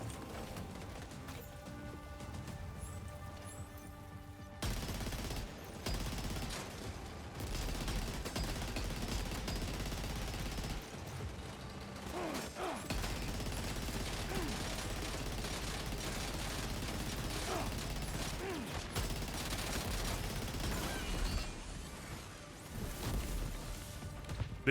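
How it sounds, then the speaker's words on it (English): Heavy machine gun fire in Death Stranding 2 rattles in sustained, dense stretches with brief gaps and sharp impacts, moderately loud against a busy game soundscape. "Alright, there's another heavy machine gun up here."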